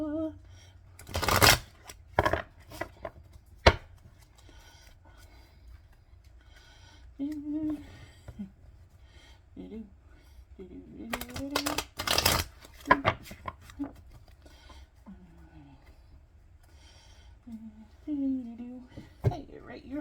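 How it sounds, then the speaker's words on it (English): Tarot cards shuffled by hand in repeated crisp riffling bursts, close and clear, alternating with a person talking softly in between. "Let's do another shuffle."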